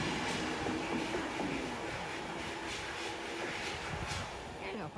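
An LNER service to London King's Cross runs through Newark Northgate station with a steady rumble and rhythmic wheel clatter. A voice can be heard faintly under the train noise.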